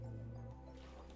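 A Minecraft water splash, a single soft liquid plop alone near the start, fading into quiet underwater ambience.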